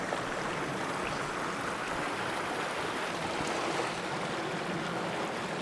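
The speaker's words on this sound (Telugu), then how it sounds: "ఇక్కడ మన రివర్ ఫ్లోని కూడా చూడొచ్చు." Continuous rushing water of a river in Lions Valley Park, Oakville, Canada, flows steadily throughout, a broad even wash like a river current, with no voices.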